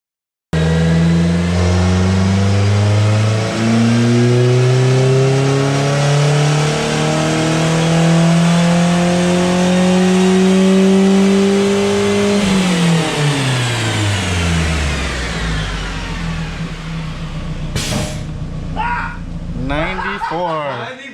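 Loud engine revving on a chassis dyno, likely one of a Mustang GT, Jeep Liberty or B18B1-swapped EG Civic, climbing steadily in pitch for about twelve seconds, then dropping off as it winds down, with voices talking near the end.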